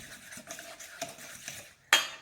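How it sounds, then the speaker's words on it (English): Worcestershire sauce and other Caesar salad dressing ingredients stirred in a bowl make soft, rhythmic clinks and scrapes of a spoon, quiet and close, ending in a sharper knock. "I like to stir after each ingredient."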